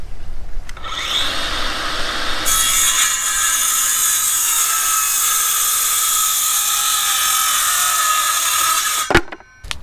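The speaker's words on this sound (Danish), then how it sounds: "Og så saver jeg det." A hand saw cuts through a wood decking board for a garden terrace, a steady, loud, close rasping that runs unbroken for several seconds before stopping abruptly.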